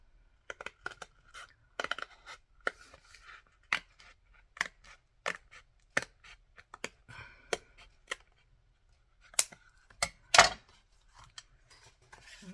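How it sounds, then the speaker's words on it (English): Scissors snipping through paper card in a papercraft project, giving a close series of sharp, irregular cutting snips with short pauses between them. "So I'm using my scissors to cut that out."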